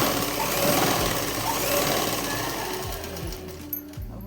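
A sewing machine runs steadily while stitching the side seam of a shalwar, its motor whirring loud and close, then slowing and stopping in short bursts near the end.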